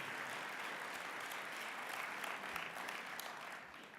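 Audience applause fills the hall at an EPP party congress in Helsinki, a steady dense clapping that holds for several seconds before easing slightly at the end.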